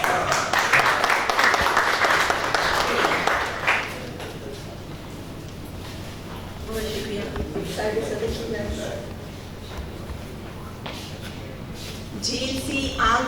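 An audience at a poetry recitation applauds a poet, dense clapping for about four seconds that fades into a murmuring room with scattered claps, then swells briefly again at the end.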